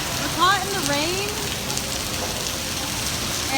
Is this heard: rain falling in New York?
yes